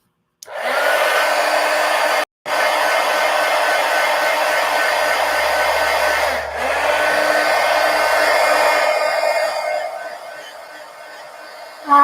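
A hair dryer runs steadily on an art journal page, a loud continuous whir with a brief cutoff early on and a slight dip midway before it tapers near the end.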